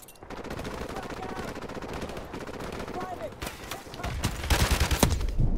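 Rapid automatic gunfire and scattered shots in the military shooter video game Call of Duty 4: Modern Warfare, a dense, continuous rattle that grows louder and heavier toward the end, with a voice faintly under it.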